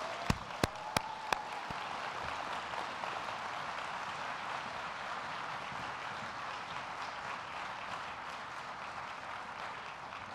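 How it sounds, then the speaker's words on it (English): Audience applause for awardees at a lunch plenary on the arts, a steady, fairly quiet wash of many hands clapping that holds for the whole stretch, with a few sharp louder claps near the start. "one round of applause for all the awardees"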